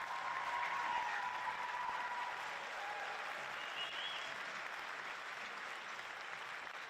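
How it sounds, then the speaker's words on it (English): Steady applause from an audience at a high school scholarship night, a continuous wash of clapping that starts loud and eases slightly over several seconds, with no talking over it. "So students, give a round of applause for all the donations."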